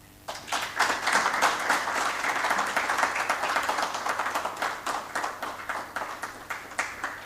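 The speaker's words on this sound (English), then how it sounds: "thanks to all of you for that befitting applause for him" Audience applause at a World Press Freedom Day event inaugurating the Uganda Editors' Guild swells quickly into a dense, sustained clatter of many hands, holding steady before gradually thinning toward the end.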